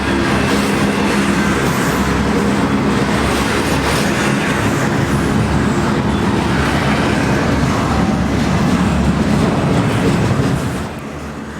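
A 26E intermodal freight train bound from Chicago to Morrisville rumbles past near Reading, Pennsylvania, a loud, steady roar with rhythmic clickety-clack of wagon wheels over rail joints that holds for the whole stretch before easing slightly at the end.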